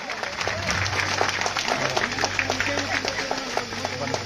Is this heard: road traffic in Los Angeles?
no